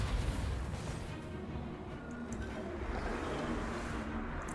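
Army units fire in a Total War battle as a continuous rumble of distant volleys and muffled booms, a dense battlefield wash with no clear single shots.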